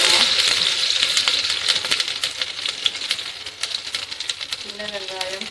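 Small shallots, onions and curry leaves crackle and sizzle steadily in hot oil, a dense continuous frying hiss with sharp pops throughout, close and loud.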